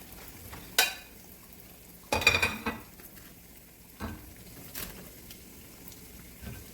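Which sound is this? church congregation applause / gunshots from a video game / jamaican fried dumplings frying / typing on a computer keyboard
jamaican fried dumplings frying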